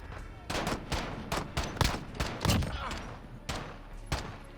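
Pistol shots fired rapidly in a video game: around ten sharp, loud reports in quick, slightly uneven succession, each cracking out with a brief tail over a steady background.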